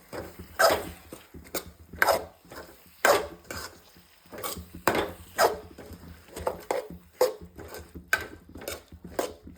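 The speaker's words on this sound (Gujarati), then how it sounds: "આને આપણે એકદમ મિક્સ કરી દઈશું" Spiced fenugreek leaf curry being stirred and mixed in a pan, a series of clear scraping and knocking strokes of a spoon against the pan at an irregular rhythm, close and fairly loud with no talk.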